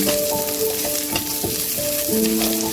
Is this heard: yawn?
no